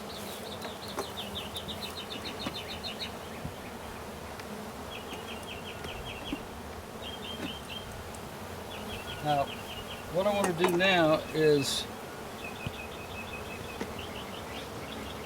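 Honeybees buzz steadily around an open hive while a nuc is installed and frames are put back in, a constant close drone with louder bursts near the middle as bees swarm past; someone talks briefly at the start.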